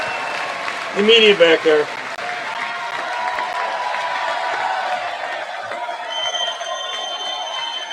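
Crowd at the State of the Union address applauding and cheering loudly and continuously, with a brief whoop near the start and someone talking over the ovation.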